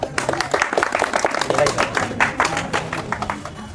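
An audience claps for a Bihar SSC exam topper at a group discussion session, a steady burst of many hands that stays fairly close and fills the whole moment, with voices murmuring underneath.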